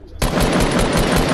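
Rapid automatic gunfire from a shooter video game bursts in abruptly and continues as a loud, steady stream of shots for over a second.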